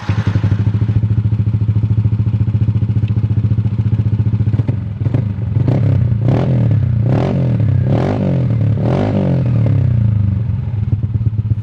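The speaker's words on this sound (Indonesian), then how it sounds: "Oke teman-teman, itu tadi suara knalpotnya." A Yamaha NMAX bored up to 183 cc with a Kawahara exhaust idles with a steady, close throb, then barks through a series of sharp, quick revs, about six throttle blips in a row.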